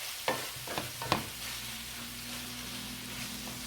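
Stuffed-squash filling cooks in a pan: a few quick utensil clacks open into a soft, steady sizzle that carries on alone.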